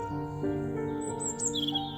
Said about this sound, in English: The birds began to sing their morning songs